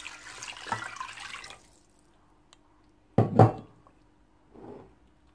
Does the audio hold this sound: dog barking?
no